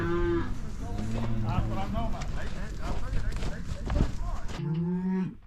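Cattle on a ranch lowing repeatedly, several loud moos in sequence with hoof and movement noise, close by, ending on a final long moo.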